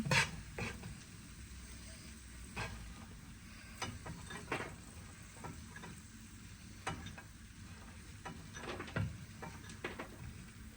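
Cashews and raisins fry in a pan for carrot halwa. A steady soft sizzle continues throughout, broken by occasional stirring scrapes and light clicks up close, with no voices.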